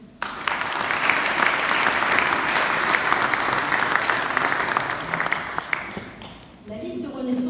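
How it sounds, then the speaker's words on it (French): At a Renaissance political rally in Fontainebleau, the crowd breaks into sustained applause, a broad wash of clapping that swells quickly, stays full and even for several seconds, then dies away at the close as a voice returns. "Je pense que nous pouvons les applaudir."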